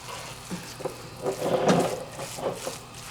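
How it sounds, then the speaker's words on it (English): Cooked meat being stirred into rice in a hot skillet for a beefy cheese rice dish, soft sizzling with scraping and stirring swells, faint and close, without talk. "take our pan of meat now as well and add that to our rice. Mix that all in as well."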